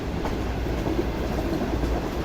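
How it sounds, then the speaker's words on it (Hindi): Pak Business Express passenger train approaching Raiwind Junction station in Pakistan, a steady close rumble of wheels and rolling carriages with faint rhythmic clatter from the rails, continuous and fairly loud throughout. "5:05 पर ट्रेन हमारी अप्रोच बना रही है रायवन जंक्शन रेलवे स्टेशन पर।"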